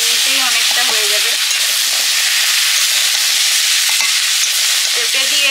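Papaya and a large fish head fry in a pan with a loud, constant sizzle and hiss, while short scraping strokes of stirring come and go.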